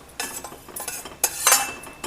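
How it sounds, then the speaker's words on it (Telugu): Roasted sesame seeds are scooped out of a pan into a bowl for dry fruit laddu, giving short scraping and rattling bursts with light metallic clinks, close and fairly loud. "ఇలా దోరగా వేగిన వాటిని ఒక బౌల్లోకి తీసుకుంటున్నాను"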